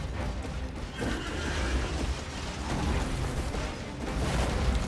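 A horse whinnies amid a dense, rumbling Elden Ring boss fight against the Tree Sentinel, with clattering and booming effects layered underneath and no talking.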